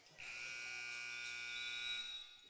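A loud, sustained electronic buzzer sounds for about two seconds, marking the end of the third quarter at a senior girls' high school basketball consolation championship game in a gym.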